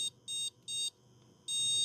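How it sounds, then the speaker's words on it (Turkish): A motherboard buzzer beeps four times in a high, steady tone, with even gaps between the first three beeps and a longer final beep, signalling missing RAM. "Buzzer'dan ses geldi."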